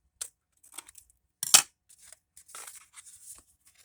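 Scissors snip paper for a pillow box in a few short, separate cuts, one sharper and louder than the rest, with quiet pauses between them.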